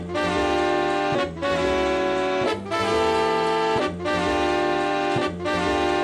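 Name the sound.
sample of a recording, 1971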